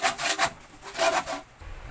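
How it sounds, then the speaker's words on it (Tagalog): Repeated rough rasping strokes of a handsaw cutting through a plastic hardbound cover, three or four bursts in a rhythmic back-and-forth, close up. "Lagari lang po yung pagputol."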